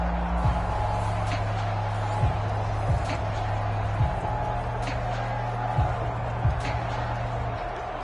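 Home crowd in a Madden 24 football game, Bears vs Texans, a low steady murmur and roar of spectators beneath a commentator talking, with a few faint thumps.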